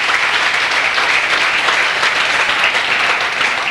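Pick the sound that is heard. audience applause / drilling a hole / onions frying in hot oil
audience applause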